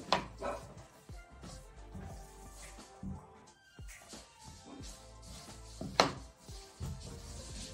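Sticky bread dough of equal parts water and flour stirred in a bowl: soft, irregular thuds and wet scraping knocks, fairly quiet, with a sharper clack near the end.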